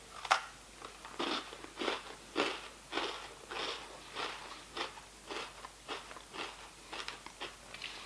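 Someone chews a dry Lotus Biscoff sandwich biscuit with original cream filling, up close. A quiet, steady series of about a dozen crisp crunches comes in an even rhythm, with no talking.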